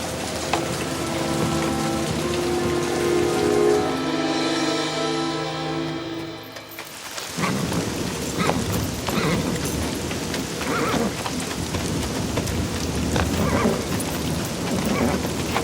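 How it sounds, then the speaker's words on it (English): Steady heavy rain pours down, dense and hissing, with a loud droning sound early on before the downpour takes over fully. "The rain's getting heavier"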